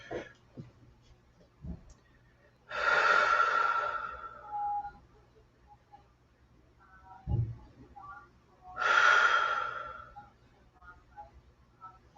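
Two long, heavy exhales from someone in a yoga stretch with kettlebell work for hip mobility. The breaths are close and fairly soft, separated by several seconds of near silence.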